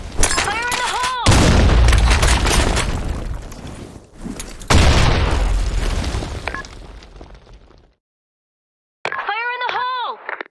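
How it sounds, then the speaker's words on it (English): Grenade blasts in the video game Broken City, two loud booming explosions with crackling debris tails, then a short silence and a burst of shouting voices at the end. "Grenade! Fire in the hole!"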